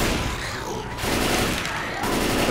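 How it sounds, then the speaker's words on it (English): Explosive frag rounds fired in the Left 4 Dead 2 video game, a loud continuous barrage of gunfire and booming blasts in roughly one-second bursts, filling the whole clip. "Deploying frag rounds."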